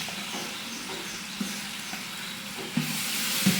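Ginger garlic paste sautéing with onions in a pan for a large batch of rice, a soft, fairly faint sizzle with a few stirring knocks and a hiss that rises near the end.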